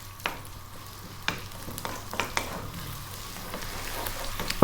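Cumin seeds and chopped onion fry over fairly high heat in sunflower oil, giving a steady close sizzle with scattered crackles and pops and a few stirring knocks, no voices.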